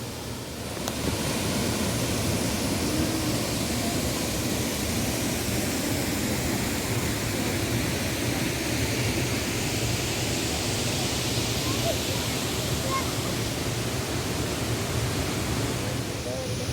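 Thommankuthu waterfall in Thodupuzha, Kerala, rushes in a steady, broad roar of falling water that stays constant and loud for the whole stretch, with no voices over it.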